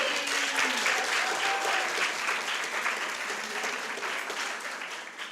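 Applause from a residency graduation audience honoring a Faculty Excellence Award recipient: steady, moderately loud clapping from a crowd that holds for several seconds before slowly tapering.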